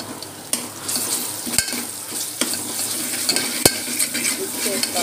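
A pan of curry with ginger paste being stirred, giving a steady close sizzle broken by repeated sharp scrapes and clinks of a utensil against the pan.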